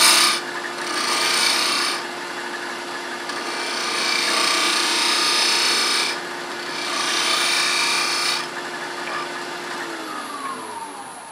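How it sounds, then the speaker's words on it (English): Spindle roughing gouge rounding over the edge of a wood turning on a lathe, a steady rasping cut that swells and eases in several passes over a constant motor hum, close and fairly loud with no talk. "take a spindle roughing gouge and just kind of get the edge round"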